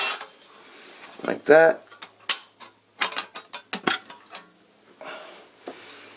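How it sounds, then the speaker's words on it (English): A metal ash pan for a stove is set into place with a series of sharp clanks and rattles, loud and close, with a brief spoken word in the middle. "I think the ash pan just sits on the bottom"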